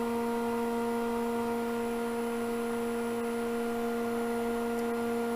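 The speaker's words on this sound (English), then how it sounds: "I'm running the lathe at 60 RPM, very, very slow." A lathe turns at a very slow 60 RPM, giving a steady, constant tonal hum with a faint mechanical drone underneath. There are no voices and no breaks in the sound.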